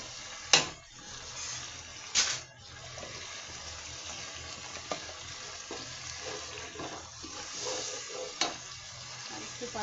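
Spiced masala with cumin and ginger-garlic is fried and stirred in a pan for a shrimp curry with taro. A quiet continuous sizzle runs throughout, with a few scraping stirs, close and fairly faint.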